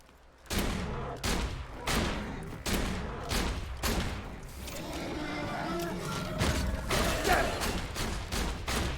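Shotgun shots in Borderlands 2 come as heavy, widely spaced booms, about seven spread over the stretch, fairly loud and close, with a dense noisy patch of combat between them.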